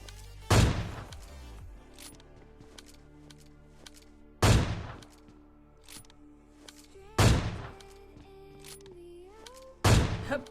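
Four sharp, loud gunshots crack at spaced intervals in a PUBG Lite solo-versus-squad match, each decaying quickly over a quiet game soundscape with faint tonal background.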